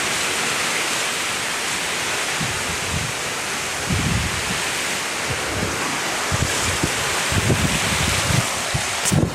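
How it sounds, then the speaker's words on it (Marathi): A river with lowered water runs past farm fields, a steady loud broadband rush of flowing water with wind buffeting the microphone, and no talking. "इथं आमची नदी पाणी कमी झालेलं आहे"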